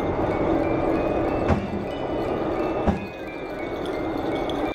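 A subway train moving along the tracks, a steady loud rumble and rattle with two sharp clanks or thumps from the car, continuous throughout with no talk.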